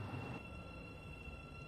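Train in the Ro-Scale Railway video game easing to a gradual stop: a quiet, low rumble of wheels with a faint steady tone above it, briefly louder at the start, and no voices.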